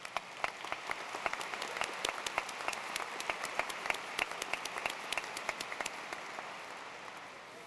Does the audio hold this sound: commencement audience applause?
yes